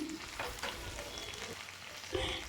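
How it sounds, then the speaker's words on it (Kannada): Marinated fish, Mangalore-style masala, crackling in hot oil with curry leaves, a soft, continuous sizzle with small bursts of spattering and stirring, close by and fairly quiet, with no talking. "ಇವಾಗ ಎಣ್ಣೆ ಕಾದಿದೆ ಅದಕ್ಕೆ ಮ್ಯಾರಿಗೇಟ್ ಆಗಿರುವಂಥ ಫಿಶ್ ಹಾಕಿ ಮತ್ತು ಅದ್ರ ಮೇಲೆ ಸ್ವಲ್ಪ ಕರ್ಬೇವಿನ ಸೊಪ್ಪು ಹಾಕಿ ಬೇಯಕ್ಕೆ ಬಿಡಿ"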